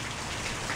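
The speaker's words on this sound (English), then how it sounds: "Some of the rain's getting in" Steady, dense rain pours down and patters on a 1962 Chevy Grumman Olson Kurbside truck, filling a brief moment with an even hiss and no voices.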